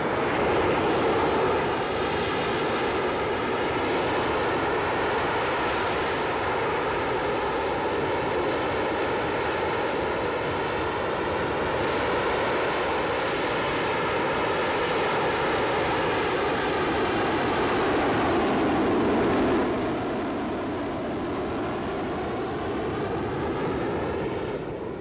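A Hawker Harrier jet engine blasts thrust during hover, a loud, sustained roar with layered whining tones that shift slowly, easing slightly near the end, with no voices.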